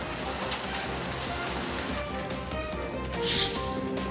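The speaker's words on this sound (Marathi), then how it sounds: "कोल्हापूर जिल्ह्यासह अनेक भागात आज सलग पाचव्या दिवशी गारांचा मुसळधार पाऊस झालाय" Heavy rain with hail pounding down in a steady dense wash, with a brief louder burst of impacts near the end and no voices.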